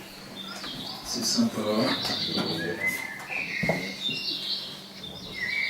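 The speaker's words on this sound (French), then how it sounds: "Vous entendez les petits oiseaux." Small birds chirp at a hypnosis stage show, giving bright, scattered high tweets and short calls at a moderate level, while someone speaks briefly over them.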